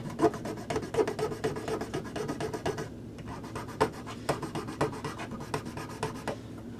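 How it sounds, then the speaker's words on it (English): A metal file rasps material off the base of an old Christmas light bulb from a 4-way flasher strand, in quick close rhythmic strokes with a brief pause midway. "now I can rub that on the file and remove some of the material where a modern bulb will fit"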